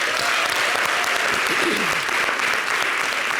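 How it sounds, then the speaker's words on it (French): A television studio audience breaks into sustained, even applause after news of a birth is announced, a thick continuous clatter with a brief vocal cry midway. "Applaudissez."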